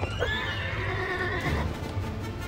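A horse in the video game Mount & Blade lets out a clear whinny that rises and then trails off, over a low background rumble.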